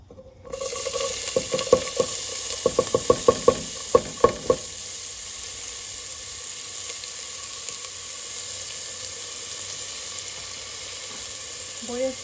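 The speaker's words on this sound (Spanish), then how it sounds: "y le voy a poner la cebolla." Chopped onion sizzles in hot oil in a frying pan, a steady close hiss throughout, with a run of sharp clacks from a utensil stirring or tapping the pan early on.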